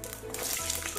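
Mustard seeds spluttering in hot oil for a mocha yam kolambu, a brief close crackling sizzle with soft pops, no voices.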